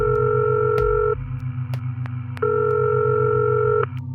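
A telephone ringback tone sounds as a call tries to reach a phone, two long electronic tone bursts separated by a pause over a low steady hum, loud and close with no speech.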